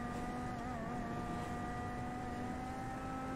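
A car drives during a video game bank heist, its engine a steady droning hum with faint pitch wavering, continuous and unbroken, with no voices.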